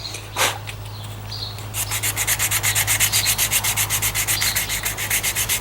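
Steady back-and-forth rasping of sandpaper on a butcher knife's metal blade, rhythmic strokes close up after a brief pause, with a low hum behind.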